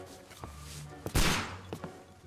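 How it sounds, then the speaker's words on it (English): A single loud gunshot in the Sherlock Holmes Crimes and Punishments video game, a sharp blast with a brief decaying tail, set among quieter game sounds and faint footstep-like knocks. "The gunshot is so loud."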